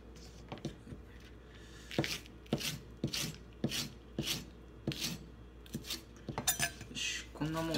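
A kitchen knife chops garlic on a cutting board while pork ginger stir-fry is being prepped at home, giving a series of crisp, irregular knocks and scraping strokes, close and fairly quiet, with a voice talking between them.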